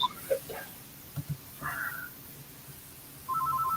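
A telephone rings indoors in short, even electronic trills near the end, after scattered soft sniffs and small noises in a quiet room.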